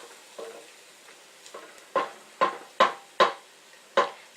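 Minced garlic cooking in a pan for marinara sauce, a faint low sizzle punctuated by a run of sharp spoon taps and scrapes against the pan, close and quiet, without speech.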